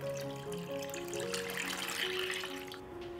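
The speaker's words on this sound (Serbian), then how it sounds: "Sipat ću vodu u šerpu do visine poklopca." Water pours steadily from a tap into a cooking pot holding glass jars on a cloth, a close, bubbling trickle whose pitch rises as the pot fills.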